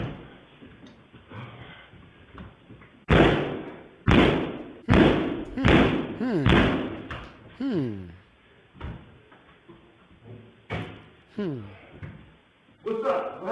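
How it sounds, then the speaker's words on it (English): Repeated heavy kicks hit an apartment door, loud booming thuds landing in an irregular series of about eight blows, with a person talking quietly in between and after them. "That's him attempting to kick into his apartment door."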